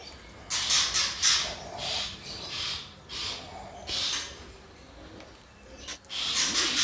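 A caged long-tailed shrike (cendet) gives a run of harsh, hissing squawks in repeated bursts, close and fairly loud, with short pauses between calls.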